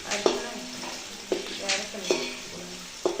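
Onion sautéing in a pan for chicken biryani, a soft steady sizzle broken by periodic scraping clinks of a spoon stirring against the pan, close and fairly quiet.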